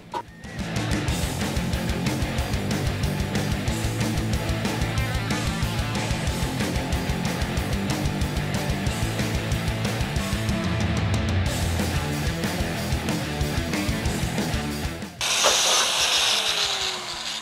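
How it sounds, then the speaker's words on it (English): A power drill bores out spot welds on the driver's side cab panel of a 1952 Chevy 3100 truck, a loud continuous grinding whine with rattling chatter that cuts off near the end. "We're just drilling out the spot welds right along here to try to get this whole panel out."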